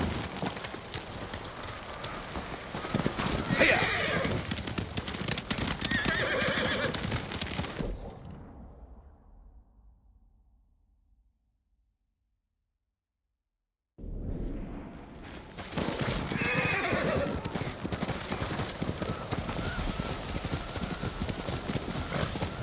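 Horse hooves clip-clop at a steady gait in the Ghost of Tsushima video game during snowfall, with an occasional whinny. The hoofbeats and game sounds drop to silence for several seconds midway, then return just as loud.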